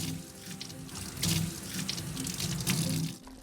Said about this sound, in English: Wash the chicken breasts, carrots, cucumber, and mung bean sprouts separately and set them aside.